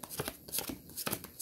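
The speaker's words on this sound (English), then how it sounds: "I'm just over here shuffling away," Tarot cards being shuffled by hand in quick riffling bursts, soft and close, with a few brief pauses between runs.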